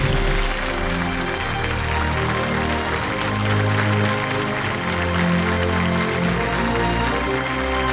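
An audience applauds to welcome Padma Shri awardee Phool Basan Yadav. Continuous clapping runs under loud, sustained background music from start to finish.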